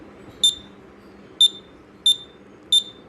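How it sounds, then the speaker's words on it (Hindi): A buzzer on a 433 MHz RF receiver module gives four short, sharp, high beeps as a button is pressed, spaced unevenly over a quiet background hum. "जैसे जैसे मैं इसे दबा रहा हूँ वैसे वैसे ये जो बज़र है हमारा ये बज रहा है"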